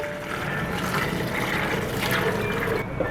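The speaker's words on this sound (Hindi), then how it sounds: "इसमें हम ऐड करेंगे तकरीबन 3 गिलास के करीब पानी ऐड करेंगे" About three glasses of water are poured into a cooking pot for black chana shorba, a continuous close splashing, gurgling stream with no talking.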